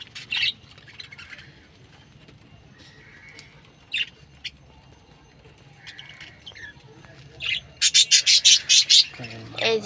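Pet birds being released from a colony cage give scattered sharp squawks and short chirps, ending in a loud rapid burst of calls, over faint rustling and a brief voice at the end.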